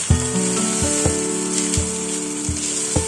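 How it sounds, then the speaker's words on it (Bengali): Cashews and parboiled gobindobhog rice frying in oil for a festive Bengali pulao, a continuous hiss under repeated low thumps and knocks from stirring in the pot, close up and without speech. "কাজু বাদামে হালকা কালার চলে এলে দিয়ে দিচ্ছি গোবিন্দভোগ চাল আগে থেকে সেদ্ধ করে রাখা"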